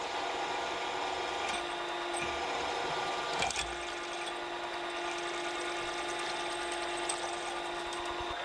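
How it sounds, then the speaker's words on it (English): Steady, continuous whir of a milling machine drilling out a lathe's quick change tool post with a 10mm jobber bit, with grinding and rubbing of the cut throughout and a brief louder knock midway. "So starting here with a 5mm stub drill, then stepping it straight up to a 10mm jobber drill bit."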